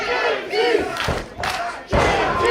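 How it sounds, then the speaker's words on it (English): Live wrestling event crowd roars and jeers as a wrestler comes out, loud sustained arena noise with swelling bursts of shouting and a few thuds. "Our crowd not swiping right along with Brad Baylor"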